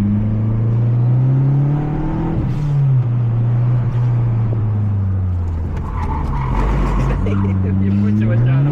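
A Mazda 3 MPS Turbo driving on a race track, heard from inside the cabin, its engine droning loudly and rising and falling in pitch through gear changes, with tire squeal and faint voices beneath.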